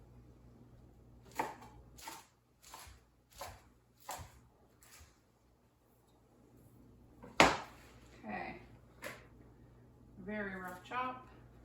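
Greens are roughly chopped with a knife on a board: about half a dozen separate, fairly soft knocks at an even pace in a quiet kitchen, followed by a person talking.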